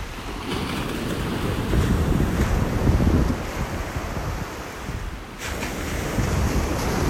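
Steady surf washes onto a beach in North Naples, Florida, a continuous roar of breaking waves with gusty wind buffeting the microphone, swelling and easing slightly but never pausing.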